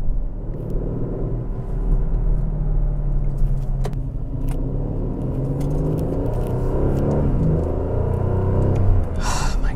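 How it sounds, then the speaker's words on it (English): A 2020 Aston Martin DB11 Volante V8 driving in Sport Plus mode, with a steady, growly engine drone and rumble throughout, the pitch rising and falling slightly as it pulls, and a brief whoosh near the end. "The V8 might be a bit too growly."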